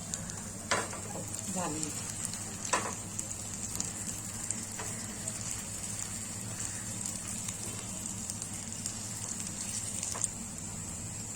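Soya tikkis fry in a pan with a quiet, steady sizzle and a few louder spatters and stirring scrapes near the start, while a brief spoken word comes in partway through.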